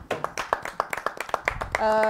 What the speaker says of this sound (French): On applaudit pour les femmes, hein?